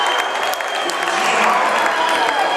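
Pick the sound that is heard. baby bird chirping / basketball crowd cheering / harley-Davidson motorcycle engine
basketball crowd cheering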